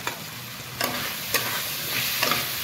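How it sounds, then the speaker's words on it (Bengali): Spice masala fries in oil in a pan, a dense steady sizzle punctuated by a few sharp scraping stirs of a spatula, near and unaccompanied by talk. "যতক্ষণ না এটা থেকে তেল ছেড়ে যাচ্ছে মশলাটা থেকে একটু ভালো করে কষে নেবো"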